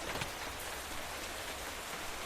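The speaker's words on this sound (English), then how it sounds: "It is raining." Steady, even rain falling in a Minecraft game world, a dense hiss of raindrops holding at one level throughout with no other sounds above it.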